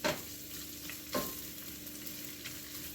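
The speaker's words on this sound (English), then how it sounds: "I'm going to just put my ground chorizo in here. Just for a little flavor on this olive oil in here." Ground chorizo frying in olive oil in a pan, a soft continuous sizzle broken by two or three clear scrapes of stirring, close and fairly quiet, with no talk.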